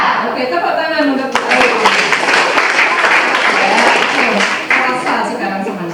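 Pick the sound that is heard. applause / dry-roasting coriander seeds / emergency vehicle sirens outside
applause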